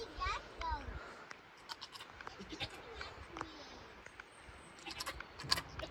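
An escaped goat gives a few faint, wavering bleats near a van on a farm, quiet and intermittent over low scuffling and background noise.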